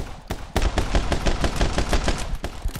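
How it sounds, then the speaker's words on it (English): Dual pistols blaze in My Friend Pedro, a loud rapid string of sharp close shots, roughly a dozen quick cracks in an uneven rhythm with no talking. "I love these double pistols."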